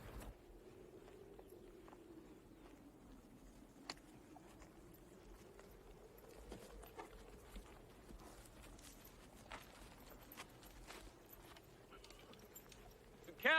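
Quiet outdoor scene with a horse's hooves clip-clopping at a slow, irregular walk, faint and somewhat distant against a low ambient rumble, with occasional soft clicks and shuffles.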